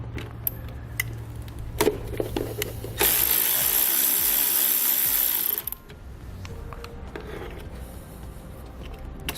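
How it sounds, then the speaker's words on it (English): A 15mm socket on a ratchet works a nut off a battery's positive post on a 2016 Dodge, with quick clicking ratchet bursts and then a few seconds of steady mechanical whirring, heard close and without talk. "We'll remove the nut using a 15mm socket."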